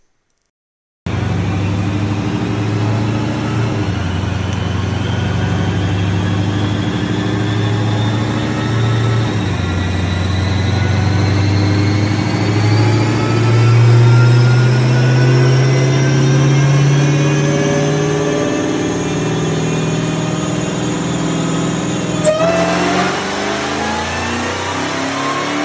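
A bolt-on Dodge Hellcat engine screams through a sustained dyno pull, its loud, close note rising steadily in pitch for about twenty seconds before the throttle snaps shut and the revs fall away.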